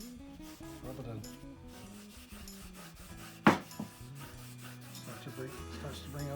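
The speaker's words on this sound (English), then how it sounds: "just put it in and just rub it in." A finish is rubbed by hand, without a cloth, into a rustic pine wood cross, making soft continuous rubbing strokes with one sharper scrape partway through and a tonal background underneath.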